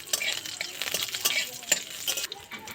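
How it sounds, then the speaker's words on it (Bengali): Five-spice seeds and slit green chillies fry in hot mustard oil in a pan for a rohu fish curry, giving a faint steady sizzle with light scraping and clinks of a stirring spoon, heard alone without talk. "5 ফোড়ন আর কাঁচা লঙ্কাটা ভেজে নেব।"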